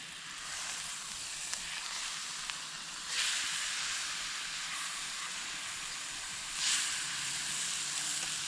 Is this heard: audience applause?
no